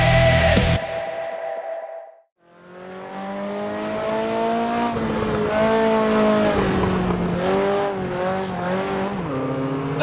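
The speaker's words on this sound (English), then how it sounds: "I'm busy driving the Ferrari 308 GTB from 1978" A 1978 Ferrari 308 GTB, without ABS, runs in a racing simulator. Its engine drones loud and continuous, the pitch climbing and dipping through revs and gear changes for several seconds after a brief cut.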